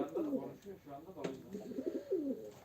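Pigeons coo at a live bird auction, soft repeated throaty calls close by amid low crowd noise and talking.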